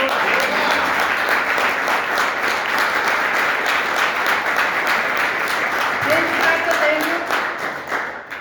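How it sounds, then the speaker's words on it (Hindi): Audience at a Sunday closing event applauding loudly, a dense sustained burst of clapping from a crowd that carries on for several seconds before starting to fade. "तो उनके लिए जोरदार ताली"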